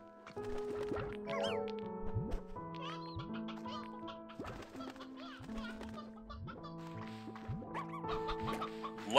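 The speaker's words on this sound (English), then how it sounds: "What are all these little tiny chickens?" Tiny chickens clucking in the video game Slime Rancher 2, a series of short quiet clucks and squawks repeating over looping game music.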